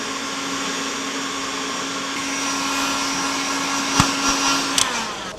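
A heat gun blows a steady, loud whooshing roar while shrinking glue-lined heat shrink over lugs on 185 mm² power cables, with a faint hum under it and a couple of brief knocks near the end.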